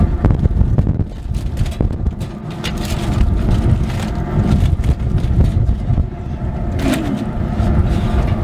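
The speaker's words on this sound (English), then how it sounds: "Complicated by the wind kicking up." Gusty wind buffets the microphone outdoors on a Super Bowl Sunday smoking day, a loud continuous rushing roar with rumbling low gusts and occasional knocks, and no voices.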